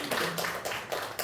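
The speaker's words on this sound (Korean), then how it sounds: "우리 박수 한번 칩시다" Church congregation briefly claps together during a sermon, a short burst of rhythmic hand claps in a reverberant hall.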